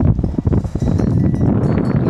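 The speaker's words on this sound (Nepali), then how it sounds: "गाईहरू एकदम चिसो हावा छ" Cold wind blows across an open grazing area where cows are kept, buffeting the microphone with a steady low roar and gusty rumble that fills the whole moment, with no voices.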